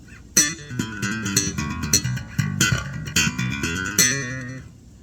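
An old-school Peavey Milestone bass guitar on both pickups with no preamp, playing a funky line of plucked and slapped notes with sharp attacks, close and alone, ending on a ringing note.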